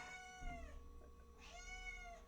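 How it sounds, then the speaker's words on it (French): Cat meowing for attention, two drawn-out, rising then falling meows separated by a short pause, fairly clear and close against a low background hum. "j'avais un chat qui avait besoin d'attention"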